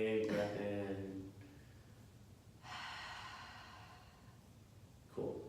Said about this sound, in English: Just a big audible breath out.